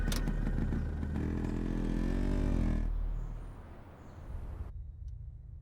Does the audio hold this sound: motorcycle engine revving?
yes